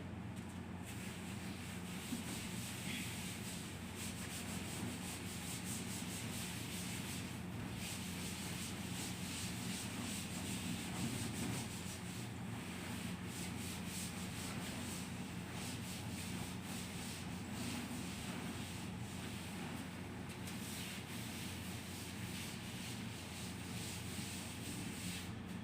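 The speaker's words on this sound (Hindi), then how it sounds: "इसको रब कर देते हैं।" Continuous quiet scrubbing as a classroom board is rubbed clean, an even, unbroken friction texture throughout with no speech over it.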